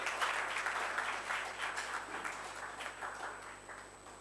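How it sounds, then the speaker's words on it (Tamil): An audience at an award ceremony gives sustained applause, a dense, moderately loud clapping that swells early and gradually eases off, with a faint steady hum beneath. "ஒரு பெரிய கரகோஷம் கொடுத்துட்டு"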